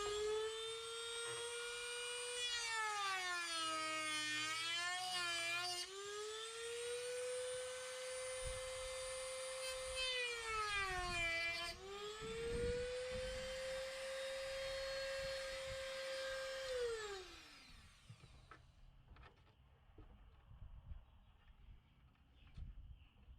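Dremel rotary tool grinding clearance into a headlight housing on a 2011 Freightliner Coronado truck: a loud, steady high-pitched whine that rises and dips in pitch under load for about seventeen seconds, then winds down to quiet.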